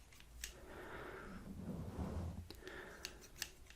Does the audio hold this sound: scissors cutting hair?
yes